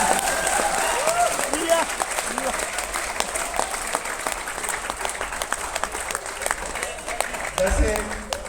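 An audience at a Hindi poetry recital claps continuously, the applause dense and sustained and slowly thinning, with a voice faintly heard beneath it.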